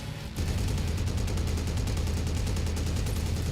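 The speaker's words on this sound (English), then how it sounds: "Ammo just cooked off." Ammunition cooks off inside a damaged mech in MechWarrior 5: Mercenaries, a sudden rapid string of crackling detonations firing evenly like a machine gun over a constant low rumble, loud and close, without speech.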